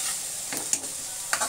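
Garlic sautéing in a pan, a steady close sizzle with a few soft stirring scrapes of a utensil.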